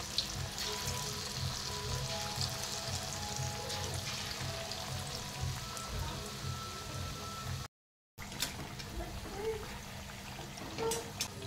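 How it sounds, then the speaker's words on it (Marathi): Potato slices dipped in batter deep frying in hot oil as bhaji fritters, a steady dense crackle and hiss running throughout, close and continuous with no voices. "हे बघा, असे तेलामध्ये आता आपल्याला हे आपले बटाट्याचे भजी चांगले तळून घ्यायचे आहेत।"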